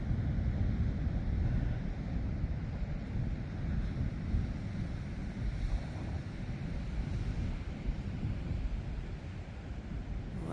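Ocean surf and wind at the shore during winter, a continuous broad roar of breaking waves with microphone wind buffeting, steady and fairly loud with no voices.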